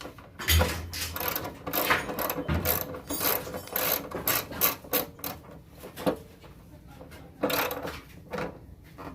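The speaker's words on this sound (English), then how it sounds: "Use a 10mm to tighten up your bolts." A 10mm ratchet tightening bolts on a 2002 Honda VTX 1800S motorcycle fuel pump: rapid bursts of close clicking pawl strokes in irregular runs, with brief pauses between pulls.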